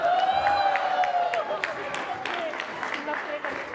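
Studio audience applause and cheering at a televised courtroom-style talk show, a steady wash of clapping that holds for several seconds with a ringing tone over it and gradually thins toward the end.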